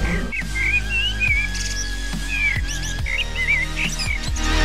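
A Java sparrow whistles a series of short, warbling notes against steady background music.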